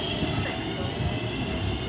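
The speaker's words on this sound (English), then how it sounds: "Here is this train leaving the class." A class 323 electric multiple unit train pulls away from Lichfield Trent Valley station on the West Coast Main Line, giving a steady low rumble and hum that stays loud and continuous throughout.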